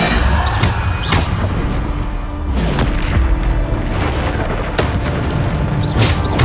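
Bombarda blast spells from Hogwarts Legacy boom again and again in a dense, loud battle, deep explosive thuds landing about every second amid crashing effects and a roaring backdrop.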